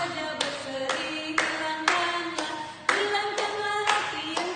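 A church congregation claps in unison at a Sunday service, bursts of rhythmic handclaps in steady groups over sustained music with a held organ-like tone, loud and close.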